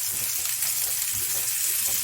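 Food frying in a hot pan, a steady close hiss and crackle of sizzling fat that carries on unbroken, with no talking.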